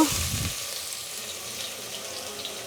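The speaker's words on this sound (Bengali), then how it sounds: "পেঁয়াজ কুচিটাকে একটু হালকা করে ভাজবো" Chopped onions hit hot oil in a pan with cumin, cloves and cinnamon, giving a steady broadband sizzle and hiss that starts with a brief thump and holds evenly throughout, no voices.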